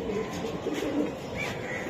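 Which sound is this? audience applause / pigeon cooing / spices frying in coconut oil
pigeon cooing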